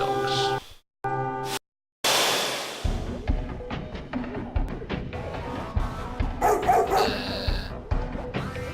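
Video game dogs in Resonance of Fate bark and yip in a battle, a run of short sharp barks amid game sound effects and music after a choppy opening.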